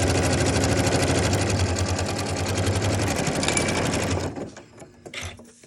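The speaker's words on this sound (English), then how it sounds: "So I'm going to stitch that." Sewing machine stitching a quilt block seam, a loud, fast, steady mechanical whir and needle chatter for about four seconds before stopping abruptly, followed by a few small handling clicks.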